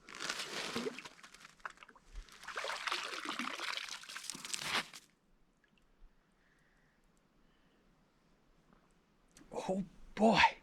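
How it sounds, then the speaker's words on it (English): Cool drinking water pours and splashes steadily for about five seconds at a winter campsite spring in the mountains. A quiet pause follows, then brief close vocal sounds near the end. "How about a nice cool drink of water?"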